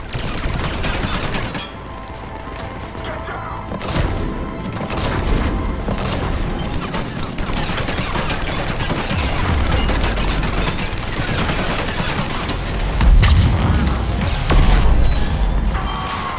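Cannons fire in Mass Effect 3 during a battle on Omega, a loud series of booming blasts and rattling bursts with heavy low thuds, continuing steadily over a noisy combat background.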